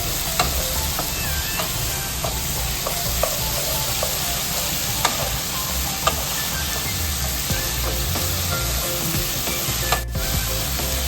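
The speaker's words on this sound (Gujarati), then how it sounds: "બધી વસ્તુને મિક્સ કરી લો।" An onion and potato curry with turmeric is stirred in a pan, giving a steady close sizzle broken by scraping strokes of the spoon, loud and continuous with no talking.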